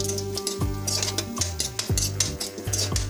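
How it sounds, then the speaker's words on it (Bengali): Whole cumin seeds and dried red chillies are stirred around a hot kadai, the spoon scraping and knocking the metal in short strokes over a steady low sizzle of oil. "এখন এগুলোকে আমরা মিনিট খানিক ধরে নাড়াচাড়া করে নেব"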